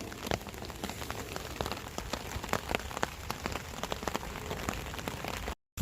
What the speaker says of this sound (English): the rain, as you can see, is not stopping, which is getting quite bad